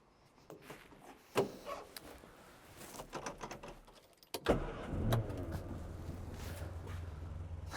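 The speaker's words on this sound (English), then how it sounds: "I think I saw the key in it, we'll crank it up." A Morris Minor 1000 is cranked from cold, and its engine catches partway through with a sudden rise into a steady low idle. Clicks and handling noises come first, all close and without speech.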